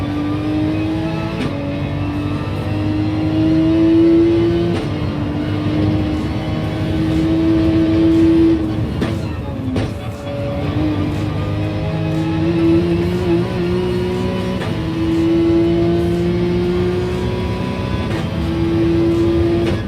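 Car engine revving hard in a racing video game, a loud sustained whine rising and falling through repeated gear shifts, steady throughout with no talk.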